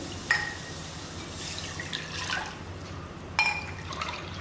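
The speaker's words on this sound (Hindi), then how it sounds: "सबसे पहले हम इसमें हमारे ये फिल्टर वाटर डाल देते हैं।" Filtered water poured into a pan for a herbal kadha, a soft steady liquid wash with a few sharper drips and splashes standing out, no voices.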